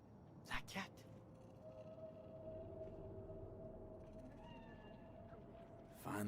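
A cat meows in Night City in Cyberpunk 2077, with a couple of short calls near the start over a low ambient hum and a faint tonal drone, and a voice speaks briefly.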